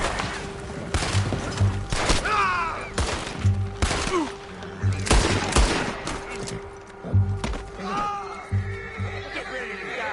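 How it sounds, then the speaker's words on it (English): Gunfire in the Red Dead Redemption 2 video game: several sharp shots and bursts spread through the scene, mixed with horse whinnies and other game sound. "Shoot that bastard already."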